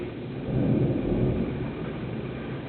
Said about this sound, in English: There's really a storm outside.